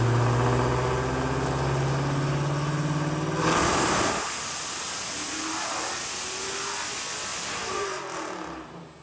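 A manual-transmission Dodge Demon V8 roars on a dyno, revving hard and steady. It drops off sharply partway through, then runs through rising gear pulls before winding down, loud and close with no voices.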